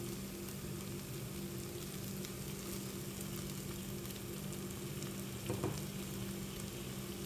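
Ginger and cooked rice being stirred together in a pan of melted jaggery for payasam, a quiet steady bubbling sizzle with a soft scrape of stirring near the end.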